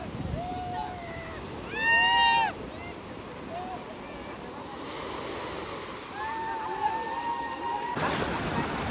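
Sea waves wash steadily onto Kanyakumari beach, a soft continuous surf with a brief louder swell near the start, under faint distant voices and shouts from people swimming.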